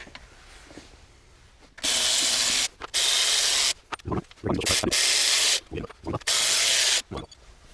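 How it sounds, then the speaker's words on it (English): A ratchet with a 13 mm socket loosens the bolts of an idler pulley bracket on an LSA engine. It makes several loud, close bursts of rapid ratcheting, broken by short pauses with lighter handling noises. "This is going to take a 13 millimeter, and we're going to be removing all 4 of these bolts."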